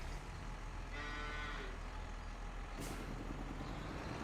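A farm vehicle in Farming Simulator 25 drives steadily with a trailer in tow, a continuous low engine drone with a brief hiss near the end, no talking.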